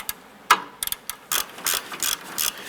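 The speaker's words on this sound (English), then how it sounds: "We're going to use a 14mm socket and ratchet on the inside." A ratchet with a 14mm socket clicking in quick bursts while turning a sway bar end link nut on a Nissan Versa, several short runs of sharp metallic clicks with brief pauses between, close and clear with no talking.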